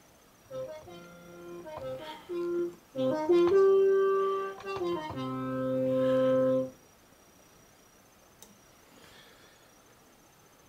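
A brassy synthesized trumpet patch on an ARP 2600 synthesizer plays a short melodic phrase of several notes, ending in a held tone, then near silence follows.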